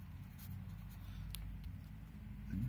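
Someone writes math by hand on a surface, giving faint, soft scratchy strokes in short bursts over a low background hum, with no talking.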